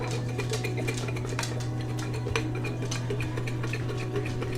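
Seasoned food is shaken together in a dish or container to coat it with salt, giving a steady, close rattling and clattering that runs throughout with no speech.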